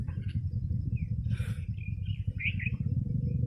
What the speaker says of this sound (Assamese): চৰাই চিৰিকটি মাত, তাৰ বাদে মানুহৰ মাত শুনিবলৈ পোৱা নাযাব ইয়াত